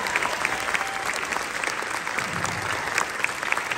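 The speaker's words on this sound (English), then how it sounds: "Let's give another round of applause for these guys" A crowd at a high school concert gives sustained, full applause for the school wind ensemble, with steady clapping filling the hall.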